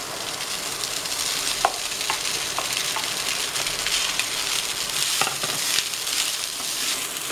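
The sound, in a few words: rice being stirred into frying tomato mixture in a pan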